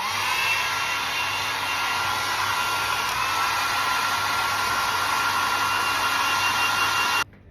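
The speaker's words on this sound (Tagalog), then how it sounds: "I'm going to blow dry my hair." A hair dryer blows hair with a loud, steady whooshing roar close by for about seven seconds, then switches off abruptly.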